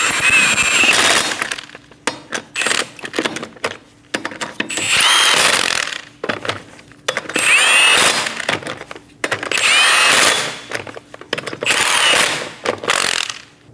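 Lug nuts on a 2008-2015 Scion xB wheel are run down with a power tool, loud close bursts of whirring ratchet mechanism repeating about every two seconds, with short quiet gaps between.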